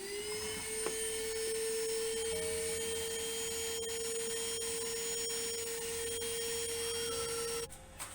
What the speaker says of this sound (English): inside our vacuum, this is actually a fume extractor now